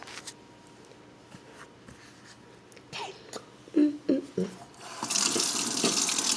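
Water runs from a kitchen tap while cooking, starting as a loud steady hiss near the end after a few clinks and handling knocks; no voices are heard.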